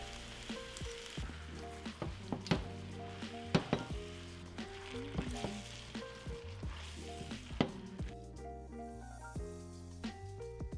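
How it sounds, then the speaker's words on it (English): Noodles, eggs and sauce stir-fried in a wok, a constant sizzle with repeated sharp scrapes and clanks of a utensil against the pan, close and moderately loud. "We'll add our noodles and our sauce to the wok and mix together"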